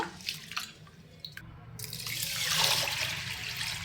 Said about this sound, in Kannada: ಒಂದ್ಸಲ ತೊಳೆದು ಚೆನ್ನಾಗಿರೋ ನೀರು ಹಾಕಿ ನೆನೆಯಕ್ಕೆ ಬಿಡೋಣ